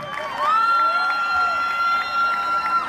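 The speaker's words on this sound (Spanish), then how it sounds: "¡El aplauso!" An audience at a dance contest cheers and applauds, with a sustained high shout or whistle riding over crowd noise and scattered clapping, fairly loud and continuous.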